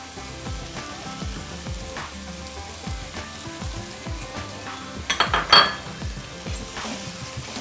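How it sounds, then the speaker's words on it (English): Deep-fried onions go into a masala frying in a pan, giving a steady sizzle with repeated scraping stirs and a brief burst of clinking cookware near the end, close up and without speech. "I'm going to add in more than half of these fried onions"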